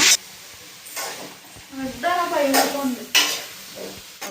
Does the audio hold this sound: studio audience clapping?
no